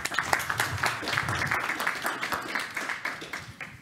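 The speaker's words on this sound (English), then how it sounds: "Big round of applause to all of them" Audience applause at a mentorship showcase, a steady wash of many hands clapping at moderate volume, even and sustained without voices on top.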